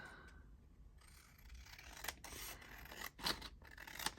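Scissors snipping through a vintage book page, a few quiet, close crisp cuts and rustles of paper in a hushed room.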